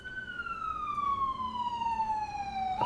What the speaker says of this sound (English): Ambulance just went by.